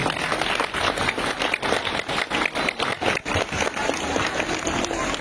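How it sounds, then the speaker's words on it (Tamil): Sustained applause from a student audience at a national school awards ceremony honouring high achievers in biological science, with dense, steady clapping throughout and a few stronger bursts. "கரகோஷம்"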